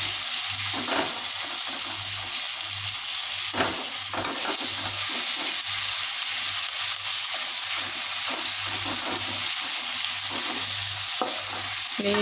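Tomatoes frying in hot oil in a home kitchen, a loud continuous hissing sizzle with a low steady hum beneath and occasional stirring knocks.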